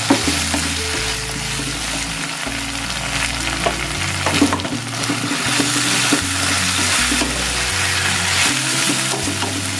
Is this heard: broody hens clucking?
no